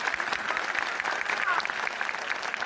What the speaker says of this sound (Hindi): हम अपने आए हुए मेहमानों के लिए जोरदार तालियां बजाएंगे।